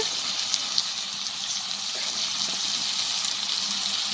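Water is poured into a cooking pan while a prawn and taro-stolon curry is made, giving a steady, fairly loud gushing rush that runs the whole time with no talk.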